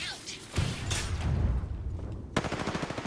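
Rapid video game gunfire crackling through a shooter match, bursts of shots and impacts that end in a sharp, rattling volley, with a voice talking over parts of it.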